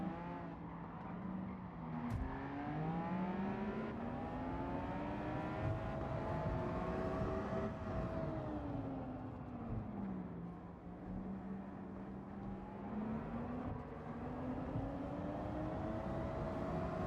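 A race car in Gran Turismo 7 drones steadily as the engine note climbs and dips through gear changes and braking, a continuous close, moderately loud whine with no talk over it.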